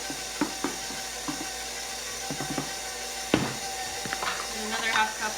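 An electric mixer works bread roll dough in a bowl as flour is added, keeping up a steady motor hum broken by scattered knocks and clatters from the bowl.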